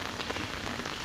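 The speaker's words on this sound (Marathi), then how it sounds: "पाऊस आला" Rain falls steadily onto a surface, making a brief, even patter of many drops with no voices.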